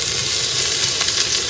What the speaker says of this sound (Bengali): এবার কিন্তু পেঁয়াজ আর শুকনো লঙ্কা ভাজি নেবো